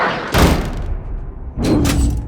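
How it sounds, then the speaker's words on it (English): A door slams shut in the 2005 horror film The Amityville Horror: two heavy, booming thuds about a second apart, each ringing out briefly, loud and close with no talk. "Then the door slams shut."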